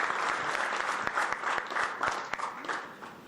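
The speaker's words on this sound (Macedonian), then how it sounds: "Нека трае аплауз" An audience at a basketball awards ceremony applauds a winner called to the stage, giving dense, sustained clapping from a crowd that stays fairly even for a few seconds.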